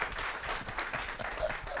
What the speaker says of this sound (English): so you can also clap that